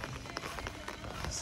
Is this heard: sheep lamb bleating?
no